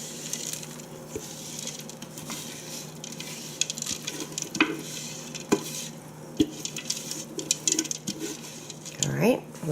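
Granola and Rice Krispie cereal being spread across a cookie sheet, giving light scattered rattles, scrapes and crisp patters at close range, with a person talking intermittently over it.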